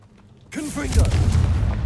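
A Confringo spell blast in Hogwarts Legacy bursts in suddenly after near silence, a booming explosive hit that rolls on with low rumble and crackle, overlapped by a voice.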